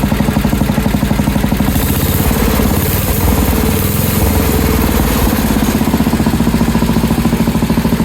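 A Sears 10XL garden tractor engine runs steadily after starting with a freshly fitted carburetor, a loud, close, continuous rhythmic chugging and clatter with no talk over it.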